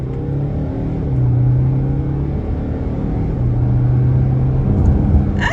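A brand-new 245 bhp Mercedes 2-litre diesel car in Sport Plus accelerates hard after a downshift, its engine note climbing in a loud, steady rising drone heard from inside the cabin, with no talking.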